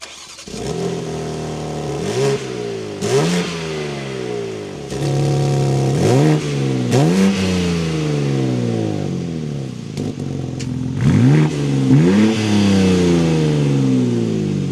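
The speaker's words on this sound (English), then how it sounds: "let's fire this up and take a listen to how the M2 sounds" A BMW M2 engine fires up and revs repeatedly, each sharp blip of the throttle rising and falling in pitch over a loud idle, with several distinct revs spaced across the run and no talk.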